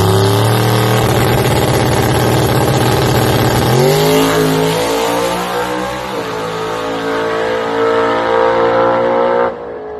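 A drag race car making a pass at the track roars at full throttle, loud and close, its engine pitch climbing through a gear change before holding a steady scream and cutting off at the end.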